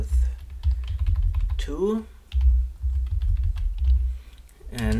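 Computer keyboard typing clatters softly over a low hum, with brief quick keystrokes at the start and end while someone talks throughout.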